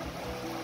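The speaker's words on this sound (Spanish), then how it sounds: "Corriendo agua por ahí." A mountain stream runs beneath a bridge on the road to El Chaltén in Argentine Patagonia, giving a brief, soft, continuous rushing wash of water with no voices.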